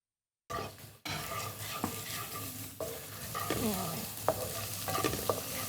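Chopped garlic hits hot oil in a pan and sizzles steadily after a moment of silence, with a louder burst and scattered utensil taps and scrapes as it is stirred.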